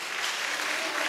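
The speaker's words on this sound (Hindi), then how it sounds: "चलिए जोरदार तालियां दिनेश जी के लिए।" An audience at a school event gives a short burst of dense, moderately faint applause for a performer.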